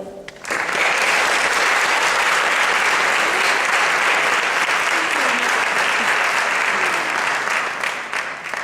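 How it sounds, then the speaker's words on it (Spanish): Sustained, dense applause from a school concert audience at Colegio Niño Jesús in Valencia fills the hall, starting abruptly and holding steady at full strength before easing slightly near the end. "Un fuerte aplauso para él."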